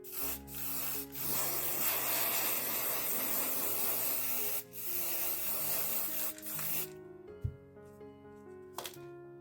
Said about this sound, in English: Then I will spray the glue onto my wider piece